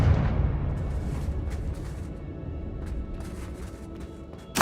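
A Confringo fire-blast spell cast in the video game Hogwarts Legacy gives a loud rumbling explosion that slowly decays over several seconds, ending with a sharp new burst.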